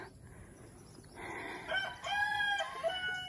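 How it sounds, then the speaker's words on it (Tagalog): A Rhode Island Red chicken crowing and clucking close by, its calls rising in the second half over faint background noise, no talk. "Ay, ito na naman lumabas ng ating RIR."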